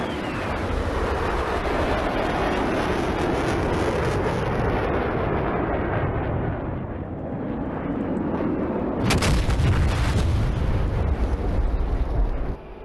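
Bombs detonating on a target in a flight simulator, a loud continuous rumbling roar of blasts with a sharper heavy impact around the ninth second, no voices.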